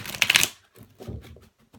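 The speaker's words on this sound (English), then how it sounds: "Oh, that's good. Good shuffle." Mythic Tarot cards being shuffled by hand: a brisk, close riffle burst of papery flutter up front, followed by softer shuffling handling and a few quiet card taps.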